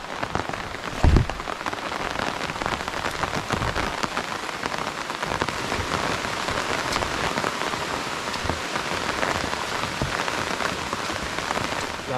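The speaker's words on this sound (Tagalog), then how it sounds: "Kasi yung ulan, hindi masyadong malakas." Light, steady rain falls on surfaces at night, a continuous close pattering hiss with a brief louder patter near the start and no voices.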